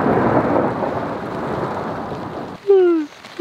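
Steady rain and rolling thunder fill a night camp in the Canadian Rockies, a dense continuous wash that cuts off abruptly near the end, followed by a brief loud burst of higher-pitched sound.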